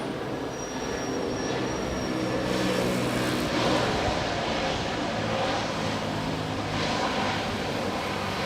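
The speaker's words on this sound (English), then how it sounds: "So we have Cebu Manila flight touching down." A loud, steady roar of jet engines, broad and sustained, as a Cebu–Manila passenger plane touches down and rolls along a wet runway at Manila International Airport.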